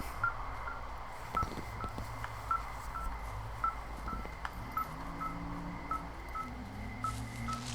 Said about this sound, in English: That beeping sound's gonna get my nerves up.